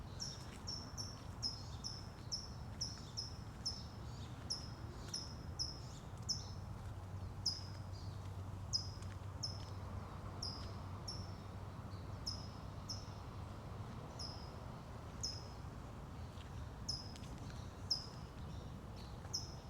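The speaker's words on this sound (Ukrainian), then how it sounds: "Пташки співають прям кайф." Birds chirp and tweet repeatedly in short high bursts outdoors, with a low steady background hum underneath and no talking.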